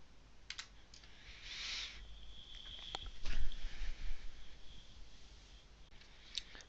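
Faint, scattered keyboard clicks, a few quick keystrokes in a quiet room, with a short cluster of louder taps in the middle.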